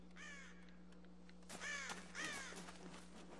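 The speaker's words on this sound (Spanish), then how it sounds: "¿Por qué hay tantos mendigos cuervos en esta isla que vuelan tan...?" Crows caw in the video game Tomb Raider 2013, set on an island, with several harsh calls in two bursts over a steady low hum, fairly close and clear.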